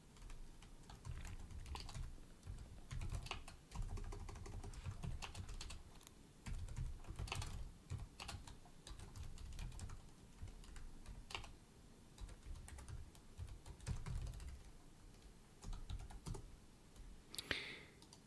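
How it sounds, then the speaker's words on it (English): Steady, faint clatter of typing on a computer keyboard during a live C++ coding session, with irregular bursts of keystrokes continuing for about eighteen seconds. "I'm typing it in chat, so hang on."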